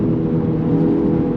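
A Honda Civic Type R FL5 with a bigger RV6 660 turbo and stock clutch and transmission, engine droning steadily under acceleration, heard from inside the cabin.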